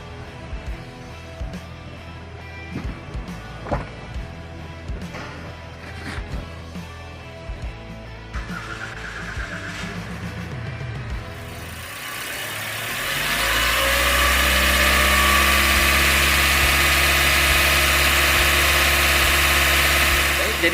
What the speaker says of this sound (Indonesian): kita akan menyalakan kendaraan terlebih dahulu